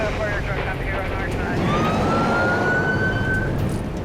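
A fire truck siren wails and rises through steady rain and traffic noise on a stormy highway, with voices talking over it.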